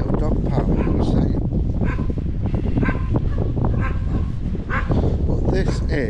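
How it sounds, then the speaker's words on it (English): Several dogs barking and yelping in an open field used as a dog park in the rural British countryside, busy and fairly loud throughout, mixed with a voice and other background sounds. "And this is where dogs play out here."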